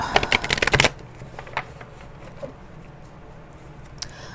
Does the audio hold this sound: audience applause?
no